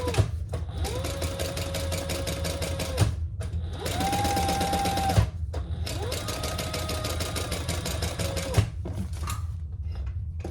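A sewing machine stitches fabric for a clutch bag in three long runs of rapid, even mechanical whirring and ticking, close and loud, each run separated by a brief stop.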